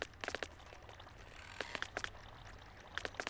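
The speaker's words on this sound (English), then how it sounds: "The lava sounds like water when you put it down at this speed." Lava placed quickly in Minecraft 1.17 makes a watery pouring sound broken by small clustered clicks in three short bursts, all quiet and close.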